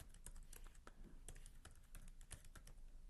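Steady typing on a computer keyboard, a quick run of crisp key clicks and taps at close range, fairly quiet, with no voice over it.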